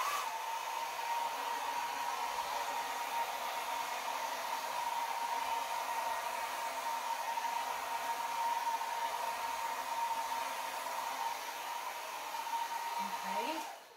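Hair dryer blowing across acrylic pour paint, a steady airy whoosh with a constant motor whine held evenly for the whole stretch before cutting off at the end, no speech over it.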